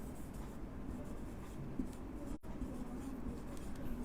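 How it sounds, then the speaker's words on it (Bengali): Marker or chalk writing out a word on a classroom board, a quiet continuous scratching and tapping of strokes with a brief break partway through, no voices. "আমি যদি বায়োটেকনোলজি লিখি এখানে, বায়োটেকনোলজি"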